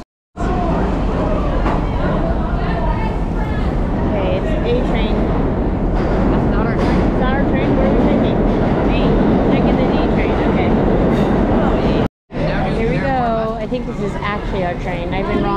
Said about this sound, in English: This is our train. It's a D and it is full of people.